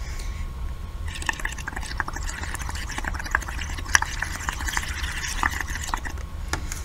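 Thick bubble mix stirred in a tipped bowl, giving a steady wet squishing and sloshing with small clicks and drips throughout, close and continuous.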